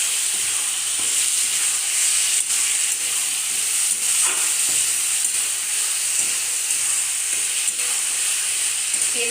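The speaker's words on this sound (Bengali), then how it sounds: "এবারে ভালো মতো এটাকে কষিয়ে নেব।" Spice paste for a fish curry sautéing in hot oil, a steady close sizzle and frying hiss that runs unbroken throughout, with faint stirring scrapes now and then.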